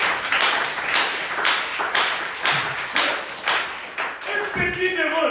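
A church congregation claps during a Tuesday worship service, a broad wash of applause with repeated sharp bursts of hand claps, moderately loud and close, as a voice speaks over it and a tonal sound rises near the end.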